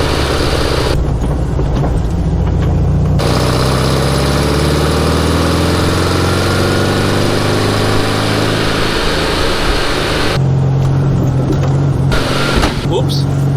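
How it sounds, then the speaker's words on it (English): A Volkswagen Type 3 engine with dual carburetors and a glass pack exhaust drones steadily inside a moving car, a low throaty roar that rises and falls with revving, loud and continuous throughout. "The glass pack exhaust. And dual carburetors. It's got a roar to it. It makes noise."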